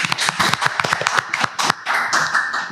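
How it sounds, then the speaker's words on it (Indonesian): An audience at an Indonesian dance crew talk show claps along. The hand claps are crisp and close, coming in uneven bursts over a thin, sustained background tone. "Tepuk tangan lagi dong."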